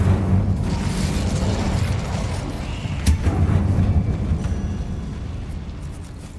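An Incendio fire spell cast in Hogwarts Legacy, a loud whooshing, roaring burst of flame with a sharp crackle midway, surging and then slowly tapering off over several seconds.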